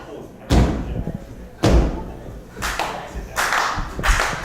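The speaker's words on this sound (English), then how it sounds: "chooses to just toss Angie Sky to the ground by the back of her head" Two heavy slams of a wrestler thrown onto the ring mat in a women's extreme wrestling match, loud and close with sharp booming impacts, followed by a quicker run of thuds and hand slaps on the mat.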